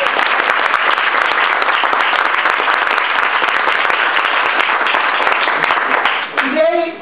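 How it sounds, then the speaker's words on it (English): Toastmasters members in a small meeting room give guests a hearty round of applause, close, crisp clapping from a modest group that carries on steadily before a voice cuts in at the end. "I would like for the Toastmasters members to give a huge round of applause to the guests"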